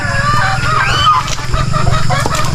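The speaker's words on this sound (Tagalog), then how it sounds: "Ayan mga pabo, nakaaligid." Turkeys honk and gabble close by on a farm in a steady, busy clamor, with a low rumble underneath and no talking.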